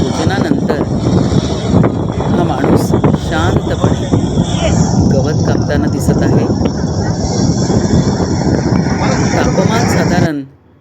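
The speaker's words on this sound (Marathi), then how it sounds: "पाच अंश सेल्सिअस आहे भन्नाट वारा सुटला आहे" Strong, cold wind blowing outdoors at about five degrees Celsius, a loud continuous roar buffeting the microphone for ten seconds before cutting off abruptly.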